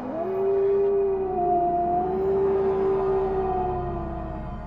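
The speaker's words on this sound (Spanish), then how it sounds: "se escuchan aullidos aterradores." An eerie howling sound effect for a Mexican urban legend about a haunted alley, a long drawn-out wail that rises, holds and slowly fades over a low, dark rumble, with no voices.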